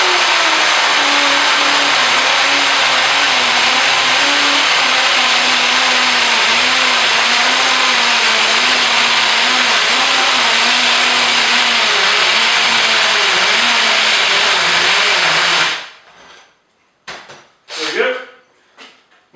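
A Hitachi 18V 4Ah combi drill bores a 25mm bit straight into a block with no pilot hole, giving a loud, steady whine for about fifteen seconds, then stopping with a few sharp knocks and clatters.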